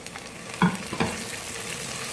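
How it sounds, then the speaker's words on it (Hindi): Tomatoes hit hot oil with onion ginger garlic paste in a pan for aloo baingan sabzi, a steady close sizzle with two sharp stirring scrapes punctuating the frying. "प्याज जिंजर गार्लिक पेस्ट हमारा अच्छी तरह से फ्राई हो चुका हुआ है, कलर भी चेंज हो गया। अब साथ ही हम टमाटर शामिल करेंगे।"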